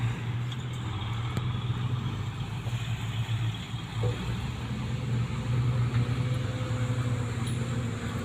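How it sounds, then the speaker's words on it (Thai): Small six-wheel HINO MEGA500 and ISUZU DEGA500 dump trucks rumble in a convoy at a dirt pit, a steady low engine drone with idling throb holding at an even level from start to finish, with no talk. "กับขบวนหกล้อเล็กนะครับ หกล้อเล็กโซนบึงการนะครับ"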